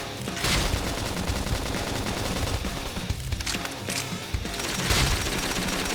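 Rapid bursts of gunfire in the Xenoblade Chronicles X video game, loud and nearly continuous, with sharper volleys punctuating a dense battle din.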